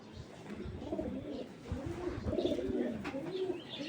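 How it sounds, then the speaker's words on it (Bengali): A pigeon on sale at a bird market coos in low, rolling, repeated phrases close by, with faint chirps and background noise around it. "এরকম কন্ডিশন একটা কবুতর।"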